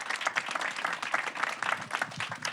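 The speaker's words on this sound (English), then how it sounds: "please give a final round of applause to our panelists" An audience applauds the panelists at a policy event on immigrant rights, brisk, continuous clapping from a modest crowd, fairly close and steady throughout.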